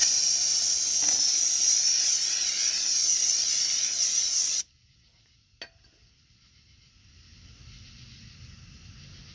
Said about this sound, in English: Let's go back to the old brake cleaner.